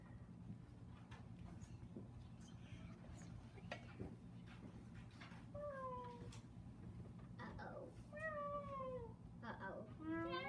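A cat meows several times, drawn-out wavering cries rising toward the end amid background clatter and a low steady hum, with speech also present.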